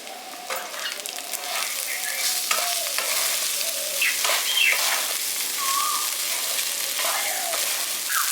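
Cooked rice being stirred in a sizzling pan for village-style lemon rice, with a steady frying hiss and repeated scraping strokes of a spatula, plus a few faint bird chirps in the background.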